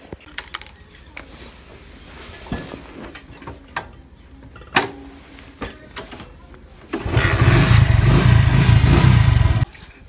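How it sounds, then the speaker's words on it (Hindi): A motorbike being started: scattered clicks and clatter, then the engine catches and runs with a loud steady rumble for a couple of seconds before cutting off. "बाइक करते हैं स्टार्ट"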